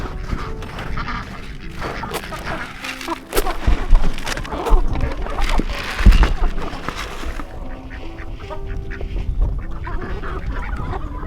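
Chickens at a backyard coop in the evening cluck and squawk in a busy, overlapping chorus at close range, with a few louder calls and rustling, while people talk nearby.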